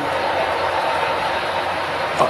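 A train rolling on tracks near a small single-track bridge at a crossing, a steady broadband rumble throughout with a brief louder clank near the end.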